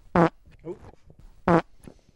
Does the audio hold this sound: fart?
yes